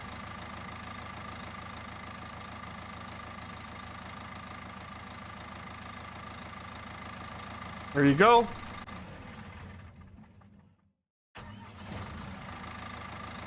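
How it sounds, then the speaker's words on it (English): Farming Simulator 19 vehicle engine idling steadily in the game, with a brief rise as it starts or revs, then a short cutout before the engine hum resumes; a voice speaks briefly over it. "Nice engine sounds."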